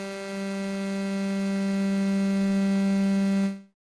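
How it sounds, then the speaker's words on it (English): A steady analog-style synth tone from Arturia Augmented Voices blends sine and square waves into a buzzy, harmonic-rich drone that holds evenly for over three seconds before cutting off abruptly. "We're going to make a sine wave for 3, a square wave for 2,"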